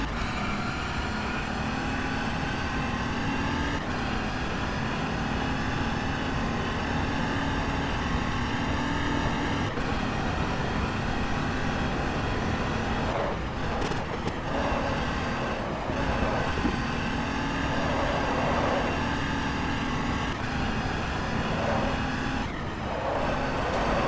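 Audi R18 Ultra race car engine in the GTR2 racing game, a steady loud drone running near the top of its revs at high speed, with a few brief dips as gears shift or the throttle lifts.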